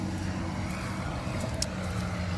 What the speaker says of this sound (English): sorry, tractor's going by right now.